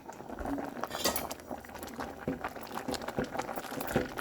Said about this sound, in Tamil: இனி இப்போ வெங்காயம் வட்டி வச்சுக்கிறேன், தாளிக்க போகிறேன்.